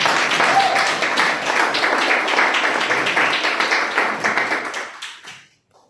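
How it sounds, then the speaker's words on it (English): Applause from an audience at a Toastmasters club meeting, a dense, steady patter of many hands clapping together that holds for several seconds and then quickly dies away to silence near the end. "Can you have a round of applause for him?"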